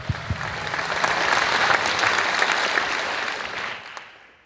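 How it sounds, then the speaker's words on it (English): Applause after a Syncopation performance at the HackMIT 2021 opening ceremony, with a crowd's clapping swelling quickly, holding steady for a few seconds, then fading out. "Let's give them another round of applause."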